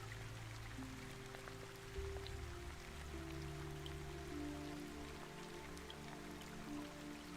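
Soft, steady rain plays quietly as a continuous wash beneath a low sustained hum and tonal drone, with no speech.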